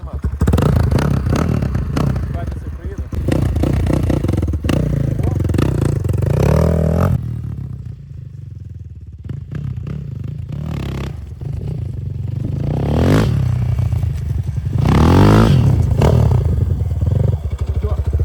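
A Kovi Max 300 motorcycle, its exhaust fitted without a baffle, revs loudly up close, with repeated rising throttle surges and rough, crackling idle dips in between.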